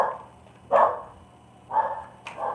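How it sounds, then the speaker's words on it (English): A small dog weighing about ten pounds barks indoors, three sharp yappy barks spaced unevenly, close and fairly loud with quiet pauses between. "That's my dog."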